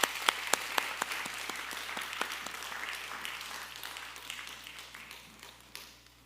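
Applause from a church congregation for the praise committee at a Friday prayer service, a dense patter of many hands with a few sharp claps standing out early, then slowly thinning and fading over several seconds.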